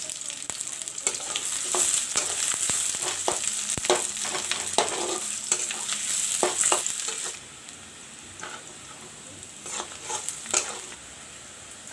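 Onions and green chilies with bay leaves sizzle loudly in hot oil, with steady frying hiss, spatula clatter and stirring throughout, easing to a quieter sizzle in the final seconds.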